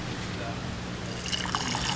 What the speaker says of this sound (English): Okay, so I'm going to go ahead and pour this in.